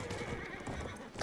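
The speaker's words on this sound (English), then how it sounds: "I heard a fucking horse go by, and I thought it was an enemy" A horse in Battlefield 1 gallops past with quick clip-clop hoofbeats and a brief whinny, quiet and fleeting.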